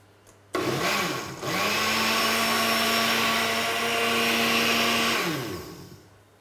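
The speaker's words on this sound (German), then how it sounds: "in die Jahre gekommener Mixer." An aging blender motor starts with a jolt, whirs loudly and steadily with a droning hum while blending mushroom soup with potato, then winds down to a stop.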